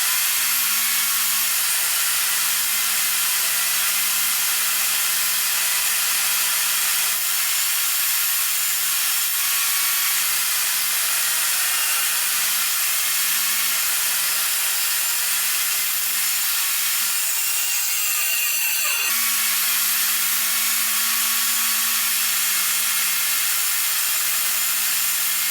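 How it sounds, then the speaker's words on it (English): Table saw squaring up a laminated wood block: a loud, continuous whining hiss that holds for about twenty-five seconds, with a brief dip and change in pitch as the cut shifts, and no voices. "can run it through the table saw to square it up"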